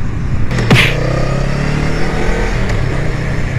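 A 2020 Honda Rebel 500 motorcycle engine revs up with a quick throttle blip, then settles into a steady, close mid-pitched rumble with no talking.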